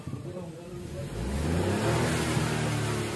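A Ford Fiesta engine idles roughly and then rises into a sustained rev, a close mid-pitched drone that swells after the first second while a person talks over it.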